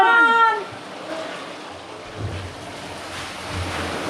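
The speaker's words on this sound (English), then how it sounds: "Water pours in, buckets fill, and the wheel begins to move." Water pours into the buckets of an old mill water wheel at Hanford Mills as the wheel starts turning. A continuous rushing wash follows a brief voice at the start, with low rumbling surges as the flow builds.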